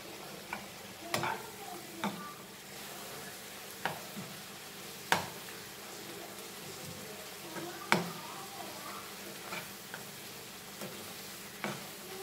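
Masala frying in a pan for a Goan vegetable caldeen sizzles in a soft, continuous crackle, with occasional sharp scrapes and clicks of a spoon stirring against the pan.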